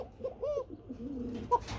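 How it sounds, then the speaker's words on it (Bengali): An egg-sitting Arabian pigeon coos nearby in a few short, soft, throaty phrases, with a sharper note near the end. "ডিমের কবুতর কি সুন্দর ডাকে"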